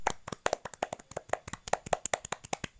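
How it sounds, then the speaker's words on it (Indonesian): A classroom group claps for fellow students after a presentation, a brisk run of sharp, close hand claps in an uneven rhythm lasting a few seconds. "Berikan tepuk tangan untuk kelompok 2"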